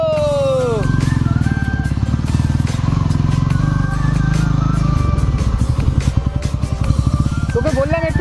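A motorcycle engine hums steadily through an evening ride, its low pulsing drone continuous and close, with a rhythm change partway through as the revs shift; people talk over the engine noise.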